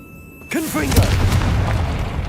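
A Confringo fire spell is cast in Hogwarts Legacy and ends in a booming explosion. A voice calls out over a rushing blast that rumbles on after the hit, with game sounds mixed in.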